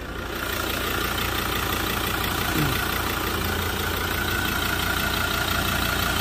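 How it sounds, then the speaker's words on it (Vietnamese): A Ford Ranger Wildtrak 3.2 automatic four-wheel-drive pickup engine idles steadily with a smooth, even hum and no change in pitch, loud and close from the open engine bay. "Máy đang hoạt động, máy nổ rất là êm, rất là chắc."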